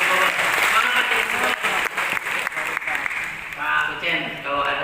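Audience applause at an education app launch event in a hall, steady clapping throughout with a voice talking over it.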